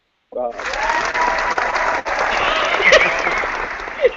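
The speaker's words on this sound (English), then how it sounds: "I just had to give some applause to that one." Applause starts abruptly after a moment of silence and holds steady, close and fairly loud, with a voice briefly breaking through near the end.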